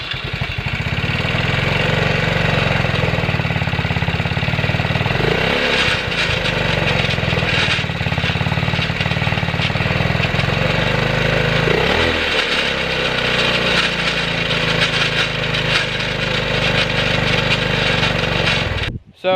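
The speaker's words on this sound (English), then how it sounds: "the noise, if you heard it, it was like grinding, something like a chain loose or something in here" Small go-kart engine with a fresh muffler after a loose-muffler problem, running loud and steady with a rough grinding, chain-like rattle throughout, a couple of slow rev swells partway, alone with no talk.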